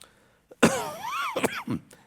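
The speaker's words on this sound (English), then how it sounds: "Pray for that cough, too." Someone coughs a few short, rough times, close by, in a congregation's live service.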